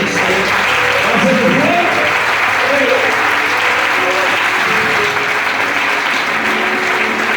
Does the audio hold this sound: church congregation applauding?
yes